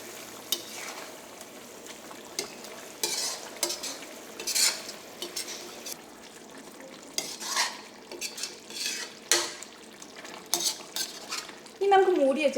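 A spoon stirs chicken curry with garam masala in a pan, scraping and clinking in irregular bursts against the metal while a soft sizzle runs underneath, with a sharper clatter near the end.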